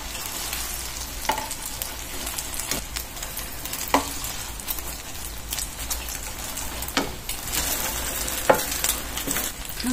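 Rolled omelette frying in a pan, a continuous close sizzle with scattered crackles and occasional scraping taps as the egg is rolled.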